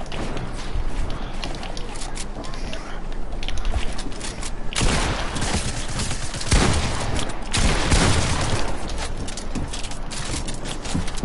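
Gunfire in the military shooter video game Squad, sustained bursts of rifle and machine-gun fire with several loud nearby shots over constant battle noise.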